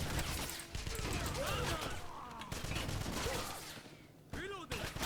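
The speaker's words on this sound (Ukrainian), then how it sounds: "Та досить стріляти вже" Rapid bursts of video game gunfire and clattering mechanical noises in Wolfenstein (2009) fill the scene continuously, loud and busy, with a voice briefly audible beneath.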